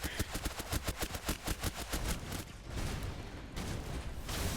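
Siris Ksana firing in the shooter game Snowbreak: Containment Zone, a rapid regular burst of shots followed by a rumbling explosion-like wash of noise, loud and close.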